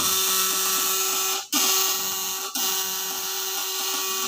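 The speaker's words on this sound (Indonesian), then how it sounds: "ini setelan kencang, suara patinanya halus dan apinya kecil." An electric fish shocker with platinum contacts runs on its high setting, giving a steady, close electrical buzz with strong harmonic hum that continues alone, broken by two brief dips in loudness.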